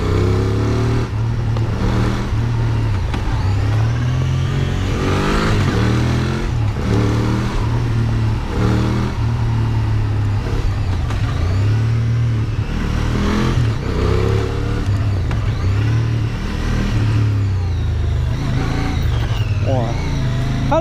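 A QJmotor SRK 550 two-cylinder motorcycle with a 270-degree engine drones steadily on a test ride, with throttle swells rising and falling under continuous close talk.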